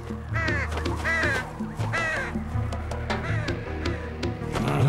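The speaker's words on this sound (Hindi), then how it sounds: "तुम्हारे पीछे गिद्ध हैं।" Vultures calling in an animated cartoon, repeated harsh cawing squawks rising and falling over steady background music, fairly loud and close.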